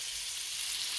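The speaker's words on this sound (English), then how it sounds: "Listen to that sizzle." Catfish fillet coated and laid into a pan of bubbling butter and olive oil, sizzling with a steady, dense hiss, close and continuous.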